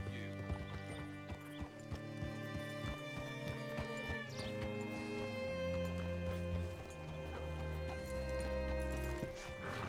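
Rhythmic clip-clop of horse hooves in Red Dead Redemption 2 over a steady musical backdrop, with a brief whinny; the steps slow and fade toward the end.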